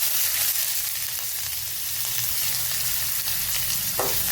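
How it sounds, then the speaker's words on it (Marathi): Onion fries with cumin seeds in hot oil, a loud, steady, close sizzle with occasional stirring scrapes and a brief clink near the end. "आता तर जिरे फुलले की लगेच कांदा टाकू।"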